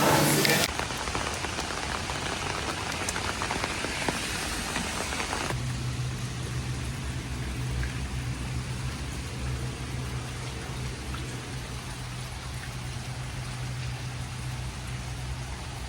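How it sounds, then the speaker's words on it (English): Steady rain falls across the Botanic Gardens in Singapore, a dense even hiss of drops on leaves and surfaces, continuous and fairly loud throughout with no voices. "There is something so lovely and peaceful about being at the Botanical Gardens whilst it's raining."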